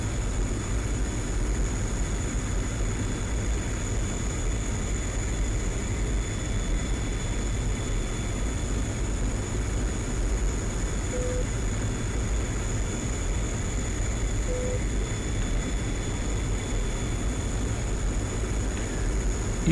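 Steady, unbroken jet engine drone of a MiG-21 in the DCS World flight simulator, a constant cockpit hum with faint high whine and no variation over the whole stretch.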